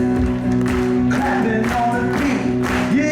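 Live concert audience at a worship show clapping along over steady music, with a sustained band tone and crowd noise running throughout, rhythmic claps blending into the mix at moderate loudness.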